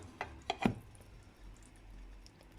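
A clean porcelain plate set down over stuffed vine leaves in a pot, three quick, quiet clinks and knocks in close succession, followed by faint room hush.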